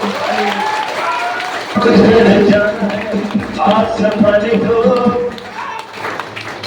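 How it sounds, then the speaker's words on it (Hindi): An audience at a Hindi business seminar breaks into a round of clapping, a dense burst of hands close by that swells, holds and thins out over several seconds, with a voice speaking over it. "बजा दो एक बार ताली, बजा दो।"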